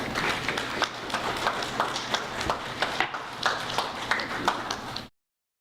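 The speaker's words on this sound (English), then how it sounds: "Let's give them a round of applause." Applause from an audience at an installation ceremony, made up of scattered, moderately close claps in an uneven rhythm, ends abruptly in silence.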